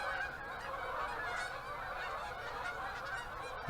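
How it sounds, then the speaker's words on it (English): A flock of Canada geese honk repeatedly from a distance while flying south, their overlapping calls forming a constant clamor over faint background noise. "Those Canadian geese aren't quiet about it."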